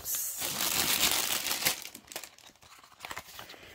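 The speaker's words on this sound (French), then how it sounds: "Attendez, je vais la déballer." A folded cross-stitch canvas is pulled from its packaging with close, loud crinkling and rustling of plastic and paper that eases into scattered crackles.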